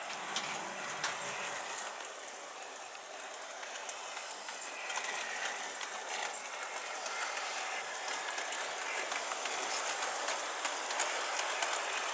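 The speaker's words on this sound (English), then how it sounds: "simply watching some trains go by" A train rolls steadily past on the Norfolk Joint Railway, a continuous loud rumble and rush with faint rhythmic clatter throughout, no voices.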